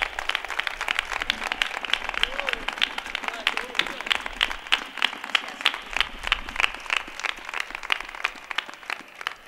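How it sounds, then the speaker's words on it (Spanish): An audience applauds during a carnival proclamation in Gines, a sustained crackle of many hands clapping, fairly close, with faint voices mixed in beneath the clapping. "Un aplauso para él."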